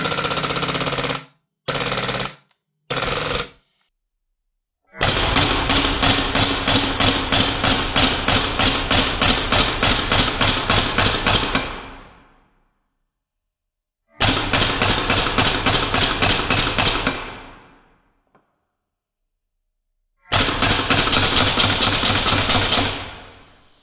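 Lambda Defence GHM9 Gen2 gas blowback rifle firing full auto up close: three short bursts, then long sustained bursts of rapid, loud mechanical clatter separated by pauses.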